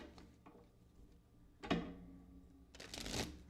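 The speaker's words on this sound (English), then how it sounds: "I'm just going to shuffle really quickly." Quiet, close-up tarot card shuffling: a few soft riffles and slaps, with two sharper bursts of cards snapping together near the end.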